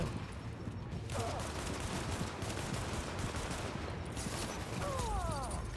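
Automatic turret gunfire in The Division, a dense, steady barrage of shots running continuously under ambient game noise, with a few brief whooshing effects near the start and end.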